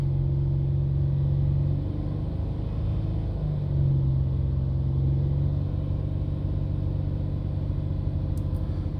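The engine of a 2008–2014 Honda Pilot runs during an idle air learn procedure, a steady low rumble with a faint hum that shifts slightly in pitch, heard close with no talking.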